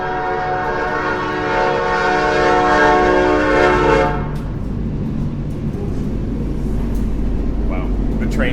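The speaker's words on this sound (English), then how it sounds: "The train comes through every day at this time." A train sounds a long, loud horn blast nearby and then rumbles past with a steady low roar and rattling, while people talk over it.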